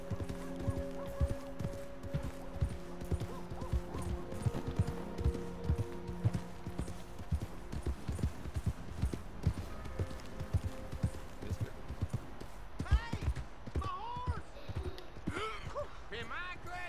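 Horse hooves clip-clop steadily in Red Dead Redemption 2, the rhythmic footfalls running under game music and ambient sound, with a voice speaking over parts of it.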